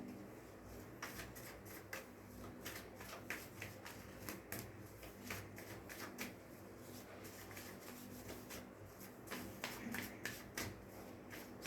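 A deck of tarot cards is shuffled repeatedly close by, giving quiet rapid riffles and soft slaps in an irregular rhythm with no talking.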